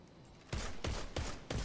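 Auto rifle fire in the video game Destiny 2: Beyond Light, four sharp, evenly spaced bursts ringing out loudly after a quiet start, with no talking.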